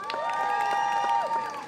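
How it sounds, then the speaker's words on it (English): A street-performance audience in Covent Garden, London, lets out a brief, loud, sustained cheer with shouts and whoops blending together. "Let's have a big cheer now,"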